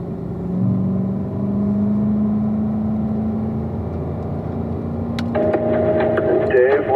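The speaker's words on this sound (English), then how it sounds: "let's have everyone go from first gear up to second. Second gear up to third gear" A Grand Sport car at a driving school accelerates from a roll, its engine a steady, loud drone that shifts and rises in pitch near the end as it moves up through the gears.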